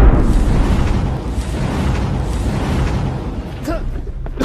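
A loud bomb blast from a playful party game, a heavy rumbling boom that rolls on for several seconds with a whooshing tail and some voice sounds mixed in.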